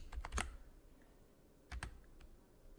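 Keystrokes on a computer keyboard, a quick burst of several clicks at the start and a second short cluster later, with quiet pauses between, fairly close and alone.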